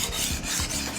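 A knife blade rasps steadily across a diamond sharpening stone in short, continuous strokes, close up with no voices.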